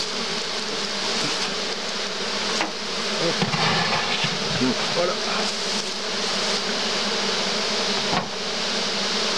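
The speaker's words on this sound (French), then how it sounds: "il y a les abeilles partout" Dense, continuous buzzing of a honey bee swarm close by, with a person speaking briefly in French and some handling noises mixed in.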